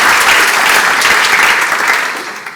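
Audience applause after a talk on architecture and structure, a loud, dense burst of clapping that tapers off gradually over a few seconds.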